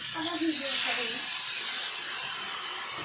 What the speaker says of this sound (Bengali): আমি এবার জল দিয়ে দেবো, দিয়ে আমি চাপা দিয়ে দেবো, হয়ে যাবে।